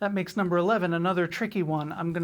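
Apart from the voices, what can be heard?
No everyday noise stands out behind the speech.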